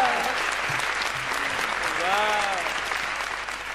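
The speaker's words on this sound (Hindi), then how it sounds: "ताली बजाओ।" At a Hindi comic poetry gathering, an audience claps steadily for several seconds in dense, continuous applause, with a voice speaking over it.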